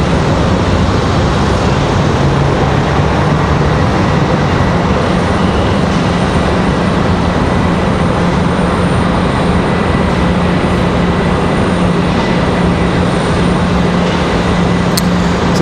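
Loud, steady broadband roar of an airplane departing Raleigh-Durham International Airport, a continuous jet rumble holding level for the whole stretch with no voices over it.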